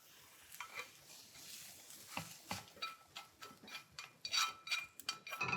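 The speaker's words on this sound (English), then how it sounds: "So these are just sauteed onions." Onions sauté in a pan while being stirred, a soft, close frying hiss broken by irregular scraping and tapping strokes that grow busier toward the end.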